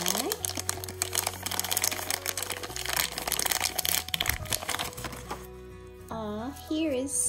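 Plastic packaging of a Frozen 2 blind bag toy crinkled and torn open, close rustling and crackling under a speaking voice, then music toward the end.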